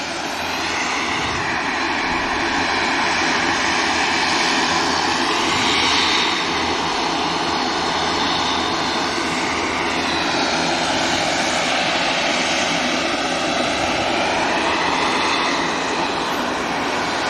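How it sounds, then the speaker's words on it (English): An airliner takes off at Manchester Airport with a loud, sustained jet engine roar and a rising and falling whine as it passes, heard alone and close. "An aircraft you wouldn't expect to use too much runway."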